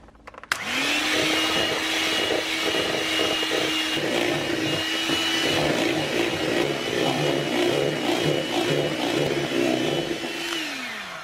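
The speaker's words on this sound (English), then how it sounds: "So now I'm just going to whisk my egg whites until they're thickened and meringue-like." An electric whisk whips egg whites for a chocolate mint mousse, a loud steady motor whine that starts abruptly, holds an even pitch with faint rattling from the bowl, then winds down near the end.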